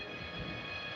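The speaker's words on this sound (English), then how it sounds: "The train started moving forward and headed for the tunnel." A train rolls forward with a steady, continuous rumble and rail noise, close and fairly loud, with no gaps or talk.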